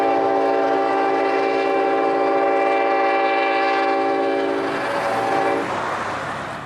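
An ethanol freight train on the S-line rounds a curve slowly at the south end of town and sounds a loud, sustained horn. The blast holds for about five seconds, then fades into the rumble and rush of the passing cars.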